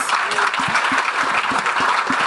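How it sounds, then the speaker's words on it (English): A short, dense burst of audience applause for a political outlook panel, many hands clapping steadily and close for a couple of seconds. "Give them all a round of applause"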